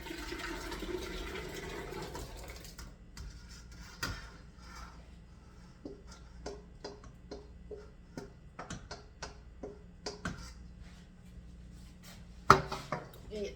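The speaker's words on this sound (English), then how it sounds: "now what you're going to do is pour it all back into the pot" Homemade tomato sauce is poured back into a pot in a short rushing gush, followed by scattered clinks and knocks of kitchenware in a quiet room.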